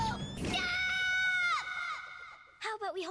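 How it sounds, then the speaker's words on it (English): A cartoon character from Gumball lets out a long, loud scream that holds steady before fading, followed by a brief, wavering vocal outburst at the end. "I thought Darwin screamed."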